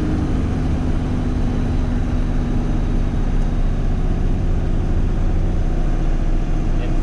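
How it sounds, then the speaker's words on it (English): A car engine under throttle, climbing toward 96 km/h at around 2000 RPM before an intercooler swap, a steady low drone heard from inside the cabin with no clear rise in pitch. "I will give it some throttle here. Up to 96 kilometers an hour and 2000 RPM."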